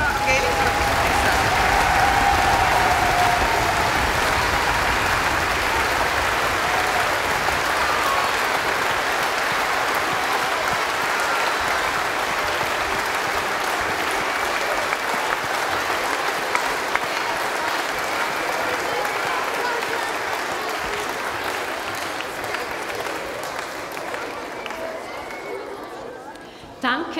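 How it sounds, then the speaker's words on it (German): Sustained applause from a concert audience at a fiddle festival in the Tonhalle Zürich, dense and continuous for a long stretch before thinning out at the end, with some crowd chatter mixed in. "Einen Applaus ganz herzlich nochmal für uns."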